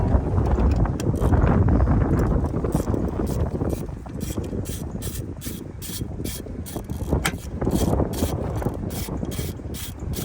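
A ratchet turns a magnetic 5/8 deep-well spark plug socket on a 2016 Dodge Journey 2.4L engine, giving a long run of fast, close mechanical clicks with a rush of steady noise underneath and no talk.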